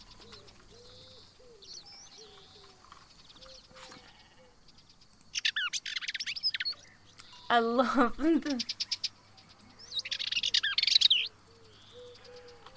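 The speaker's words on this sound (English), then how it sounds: "It's a warbler. Warblers make really cute noises." Warbler chirps in the wildlife video game Alba: a Wildlife Adventure come as two bright bursts of quick, high twittering, with a person talking briefly between them.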